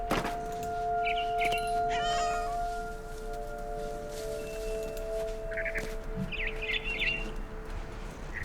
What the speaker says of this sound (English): Is that cat purring noises?